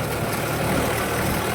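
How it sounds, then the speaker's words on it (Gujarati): A farm tractor engine runs with a steady, close, rumbling drone that holds an even level throughout, with no talk over it. "ટ્રેક્ટર લઈને આપણે નીકળી ગયા છીએ મોનહો લેવા માટે."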